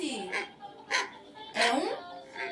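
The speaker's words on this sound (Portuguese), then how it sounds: "É um cachorro." A dog gives a few short, separate barks and yips in a loose rhythm, fairly close and moderately loud, with some voice-like tonal content mixed in.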